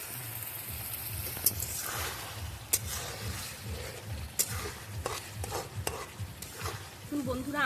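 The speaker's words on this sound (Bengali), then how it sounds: "আমাদের কিন্তু চিকেনটা আর মশলাটা ভালোভাবে কষানো হয়ে গেছে" Chicken and spices being sautéed in a pan for mocha chicken, a soft sizzle under repeated scraping and clacking of a spoon stirring, with irregular knocks against the pan and a brief sharper clatter near the end.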